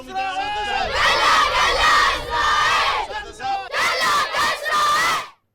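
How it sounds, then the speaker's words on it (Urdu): Children at a street protest in Baghdad chant slogans in unison against America and Israel, loud massed young voices rising and falling in repeated shouted phrases with brief pauses, close and continuous. "مظاہرے میں بچوں نے امریکہ اور اسرائیل کے خلاف نعرے لگائے۔"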